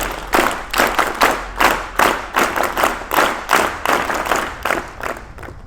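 An audience at a school event in Palampur claps in unison to welcome a guest, a steady rhythmic beat of sharp hand claps roughly twice per second, close and loud, with no talking.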